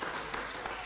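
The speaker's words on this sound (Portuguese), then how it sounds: "Aí, salva de palmas." An audience at a church testimony talk by Olympic race walker Caio Bonfim applauds, giving a steady wash of clapping throughout with a few sharper individual claps.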